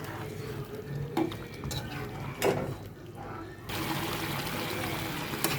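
Beef korma is stirred in a pot on a stove: wet sloshing and scraping with a few sharp utensil knocks against the metal, then a steady simmering hiss.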